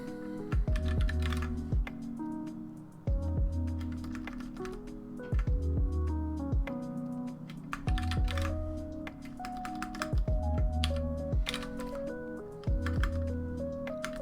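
Rapid typing on a computer keyboard during a coding stream, close and crisp, with dense clusters of key clicks broken by heavier thumps like a space bar or enter key, no talking.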